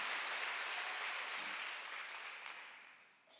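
A church congregation applauds during a Sunday worship service, a broad sustained wash of clapping that slowly fades near the end.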